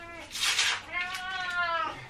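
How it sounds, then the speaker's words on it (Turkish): Cat meowing in a home kitchen during waffle batter preparation, a drawn-out, rising then falling meow followed by a second wavering meow, close and fairly loud with no talk over it. "kedi sapıttı kedi"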